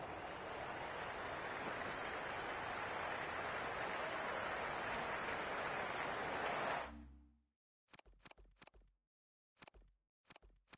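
Crowd buzz in the cricket video game Cricket 26 during an Ashes Test between Australia and England, a dense steady roar of a stadium crowd that cuts off abruptly, followed by several sharp isolated clicks.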